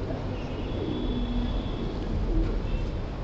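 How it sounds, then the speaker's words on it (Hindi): A Malwai pigeon gives soft, low coos in a couple of short phrases, faint beneath steady background noise with a thin high whistle. "प्योर मलवई कबूतर है ये"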